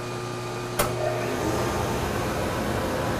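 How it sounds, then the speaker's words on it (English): A shop vacuum runs steadily beside a World War II–era 2L surface grinder in a home machine shop, a continuous broadband whir with a brief sharp click near the start as the motor note shifts. "The vacuum"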